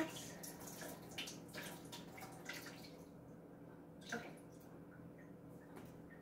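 Rinse water splashes and trickles as it is poured off grapes into a sink, a burst of splashing that thins to scattered drips, quiet and close.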